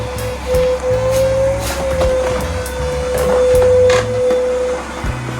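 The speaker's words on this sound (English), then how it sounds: "we got the shop vac, and that thing's locked. Let's get it from below" Shop vac running aboard a custom 50-foot trimaran, a steady loud motor drone with a whining tone that rises and dips as the hose moves, with no talk over it.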